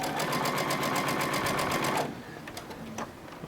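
A sewing machine stitches a 1/4 inch seam on a quilt block. It runs in a steady, fast, even rhythm for about two seconds, then stops, leaving faint handling noise. It is close and loud, with no talk.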